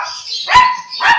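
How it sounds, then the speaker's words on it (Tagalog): Two sharp barks ring out close by, one after the other, with some higher yipping between them, from dogs kept at a home that also houses an aviary, among them a Maltese. "Ayan, dami pang aso dyan."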